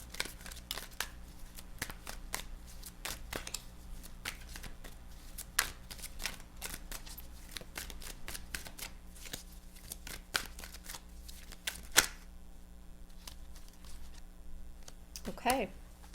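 Tarot cards being shuffled by hand give off a soft, steady stream of papery flicks and riffles, quiet and continuous, with a brief louder flurry near the end.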